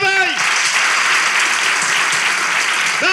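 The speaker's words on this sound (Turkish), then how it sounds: "Alkışlarla!" A voice rises over a dense, loud burst of studio audience applause at the close of a Turkish talk show episode; the clapping carries on steadily, and the voice returns briefly at the end.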